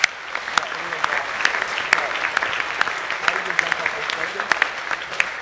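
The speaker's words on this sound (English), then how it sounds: "Boys, can we give the parents and families a round of applause?" Sustained applause from boys and guests at a school academic awards assembly, steady clapping with sharp individual claps standing out and a faint murmur of voices underneath.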